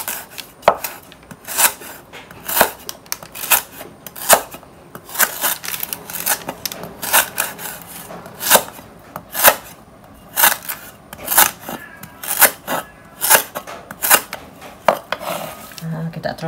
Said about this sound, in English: Potong serai dulu.